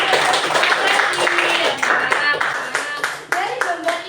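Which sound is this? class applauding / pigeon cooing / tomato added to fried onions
class applauding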